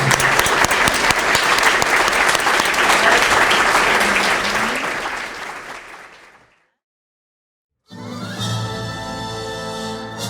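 A standing audience at an entertainment show claps steadily in a dense, loud wave that fades out, followed by a pause, then music starts.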